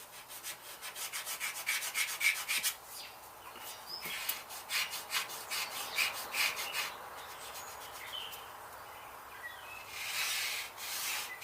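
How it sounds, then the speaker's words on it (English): A tool scratches and rubs across a sheet of 16 gauge steel in a garage, tracing a pattern for a door hinge pocket on a 1959 Ford F100 panel van, with steady scraping strokes and faint birds in the background. "we're just tracing out this pattern. Not too hard, nothing, no science in this, but tracing it out onto this piece of 16 gauge steel"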